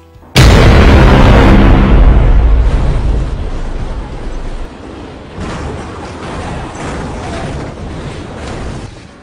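Dynamite blasts set off on a mountainside to trigger an avalanche for a Nolan film: a sudden loud boom, then a long rumbling roar that fades and swells again, with no voices.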